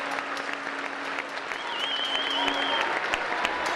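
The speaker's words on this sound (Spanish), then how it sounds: "los aplausos." Steady applause from a gathered crowd at a traditional ceremony for the handing over of staffs of command, a continuous dense patter of clapping that holds and swells slightly toward the end.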